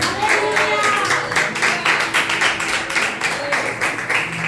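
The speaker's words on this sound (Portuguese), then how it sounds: "bater as palmas bem forte para o Senhor Jesus" A congregation at an evening women's faith gathering claps hands together in quick, rhythmic, fairly loud bursts, with faint voices mixed underneath.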